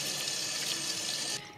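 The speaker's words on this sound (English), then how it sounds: "you wanna rinse with some cold water" Cold tap water runs steadily into a sink, rinsing a raw turkey, a close continuous splashing hiss that cuts off abruptly near the end.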